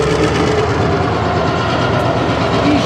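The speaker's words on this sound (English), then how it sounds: "Burlington Junction Railway." A train on the Burlington Junction Railway rolling past close by, a loud, steady rumble with rhythmic wheel clatter throughout and no voices.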